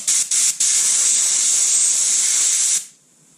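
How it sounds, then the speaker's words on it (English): Compressed air hisses hard through a Polaris 425 carburetor pilot jet in a garage, a few short loud bursts followed by a steady blast of more than two seconds that cuts off abruptly. "let's give this another try quick with the air compressor and see if I can blow this pilot jet out"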